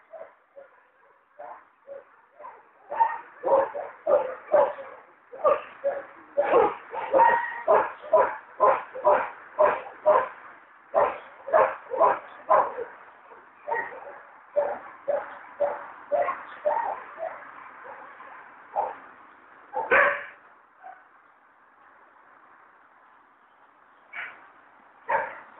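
A dog in training at a boarding kennel gives a long run of close, rhythmic barks mixed with yips and whimpers, pausing briefly, then a few last scattered barks.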